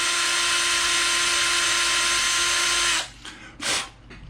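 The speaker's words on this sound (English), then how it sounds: "So again, I just use a drill" A small drill whirs steadily and loudly for about three seconds while cutting traces on a guitar pedal circuit board, then stops, followed by a couple of brief scraping touches.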